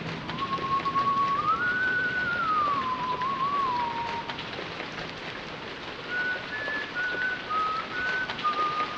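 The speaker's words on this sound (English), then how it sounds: "I do enjoy that this janitor whistles instead of having that little key jangle." A janitor whistles a wavering tune in the Korean horror video game White Day, heard in two phrases over a steady rain-like background hiss.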